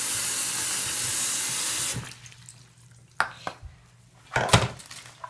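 A water tap runs steadily into a kitchen sink while soup is being made, a loud continuous rush that stops abruptly partway through, followed by a few sharp clatters of dishes and handling.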